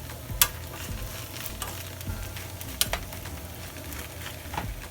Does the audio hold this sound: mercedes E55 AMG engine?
no